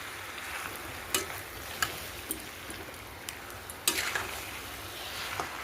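Onions frying in a pan until they turn red for a potato and goat meat curry, with a steady sizzle and a few sharp scrapes of a spatula against the pan.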